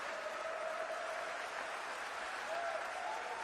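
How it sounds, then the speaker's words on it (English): Steady audience applause at a tribute event, a dense continuous patter of many hands filling the space from start to finish, with faint voices murmuring underneath. "I'm sure you're clapping because I'm the last speaker."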